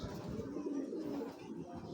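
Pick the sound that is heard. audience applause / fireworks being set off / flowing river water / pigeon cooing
pigeon cooing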